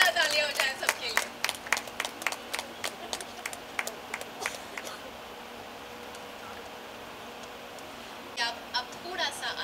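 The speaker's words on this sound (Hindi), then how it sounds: "एक बार जोरदार तालियां हो जाए सबके लिए।" A burst of audience clapping at a celebrity event in India rises sharply, then thins into scattered claps and fades into the hall's ambience, with a brief flurry returning near the end.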